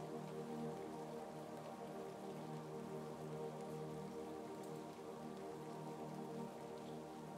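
Rain falls in a steady, even patter that continues without a break, soft and constant, under a faint, low hum.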